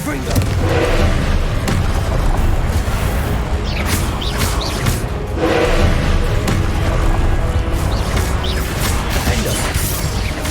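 A Confringo blasting curse goes off in the Hogwarts Legacy video game: loud, dense booming explosions and crashing debris fill the whole stretch, with surges of blast noise layered over continuous heavy rumble.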